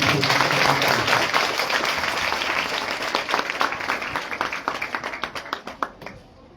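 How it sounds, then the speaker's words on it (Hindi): Loud applause from a gathered audience at a school farewell ceremony at Middle School Bairiya, a thick wash of clapping that gradually thins into scattered individual claps before fading out. "तो सुनिए सबके लिए जोरदार तालियां।"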